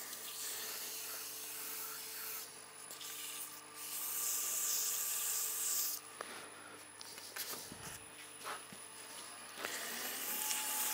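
Steady hand sanding of a wooden cheese serving board, a continuous soft rubbing scrape with shifting strokes as the hands move around the shape, close and fairly quiet with no talking.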